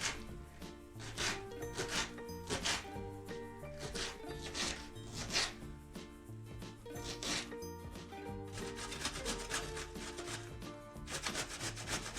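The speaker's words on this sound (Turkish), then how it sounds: "kabakları rendeleyip kapya biberi küçük küçük doğrayalım" A knife taps quickly and steadily on a cutting board, a close run of light chopping strokes dicing red peppers.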